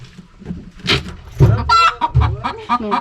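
A hen clucks several times in quick, uneven bursts, close and fairly loud.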